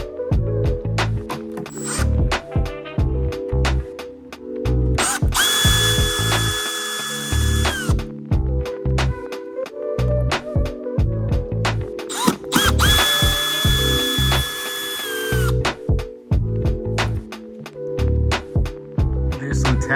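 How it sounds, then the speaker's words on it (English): Power drill on a Jeep Wrangler, working loose two side screws near the gas cap area; repeated close, loud bursts of motor whine and ratcheting clicks, with two longer sustained runs. "We're going to be removing these two side screws right here."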